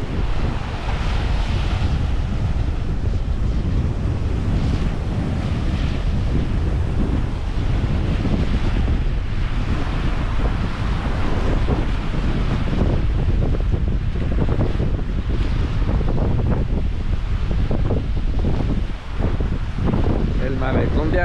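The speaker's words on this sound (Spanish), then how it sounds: "El malecón de Arroyo." Strong, steady wind buffets the microphone along with the wash of ocean surf at the seaside promenade of Arroyo, a constant loud roar with no pauses that runs for the whole stretch.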